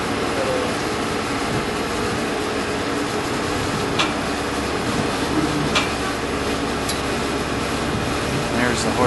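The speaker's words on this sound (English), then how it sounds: "Taking a tram ride." Steady rumble and rattle of a tram in motion at the LA County Fairgrounds, with continuous broadband rolling noise and a few brief metallic squeaks.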